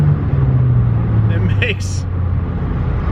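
A turbocharged car making 20 pounds of boost pulls on a highway after a downshift; a steady low engine drone runs throughout, with someone talking over it.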